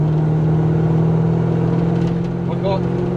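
Mazda B2000 ute with a 1UZ engine swap, held at steady part throttle with a fault in the airflow meter: a constant, loud engine drone with a strong low hum, and a person talking faintly over it.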